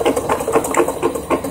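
Motorized meat grinder switched on by a foot pedal and running at about 200 RPM, giving a close, rhythmic mechanical chugging and rattle with a steady pulse and no talking.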